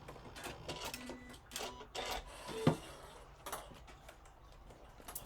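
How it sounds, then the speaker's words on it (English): A computerised sewing machine sews decorative stitches in short rhythmic bursts of rapid ticking, run from a start-stop button, followed by a brief whirring snip from the thread cutter, all close and moderately loud. "Now I'm using my start stop button. I find that a lot easier with decorative stitches."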